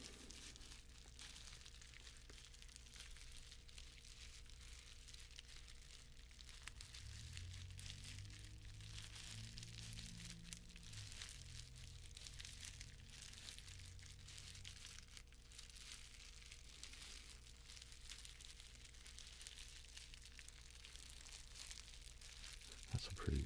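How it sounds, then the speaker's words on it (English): Quiet, irregular crinkling and crumpling, like a soft material being squeezed and handled close to the microphone during a live stream, faint throughout and fuller for a few seconds in the middle. "That's a pretty good crinkly sound, I think."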